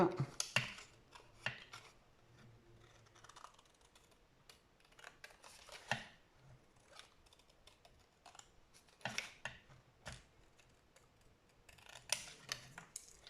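Scissors snip through card while a paper craft box and card kit is assembled, giving scattered sharp crisp cuts and rustles spread across the stretch, fairly quiet and close, with no talking.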